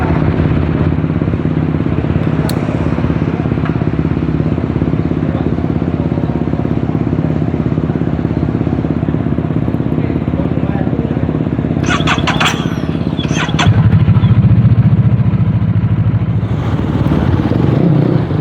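A viral twin-engine adventure scooter runs at a steady hum, loud and close for most of the stretch, with a brief rattle and some clatter toward the end and speech heard over it.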